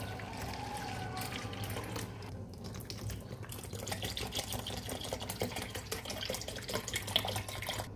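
Milk pours into simmering raw date palm juice with rice for a pudding, a continuous liquid splashing and trickling that runs steadily throughout at moderate level, with no speech.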